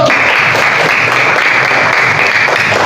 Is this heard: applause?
yes